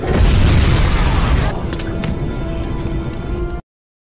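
A loud, deep car explosion in a film roars at the start, then settles into a rumbling, crackling aftermath that cuts off abruptly.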